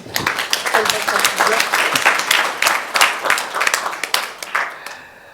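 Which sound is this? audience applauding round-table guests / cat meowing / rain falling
audience applauding round-table guests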